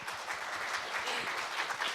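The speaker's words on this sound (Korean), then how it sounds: "박수 한번 쳐주세요." An audience at a health talk concert claps steadily, a dense, continuous patter of applause throughout.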